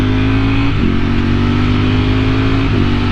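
A Ducati V4 motorcycle engine revs loudly and close, a deep droning roar with a couple of brief dips and pickups in pitch.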